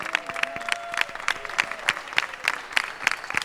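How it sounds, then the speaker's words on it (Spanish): Light applause from an audience at a school arts performance by musical ensembles, with scattered distinct claps in an uneven rhythm and moderate loudness. "También el aplauso para ustedes."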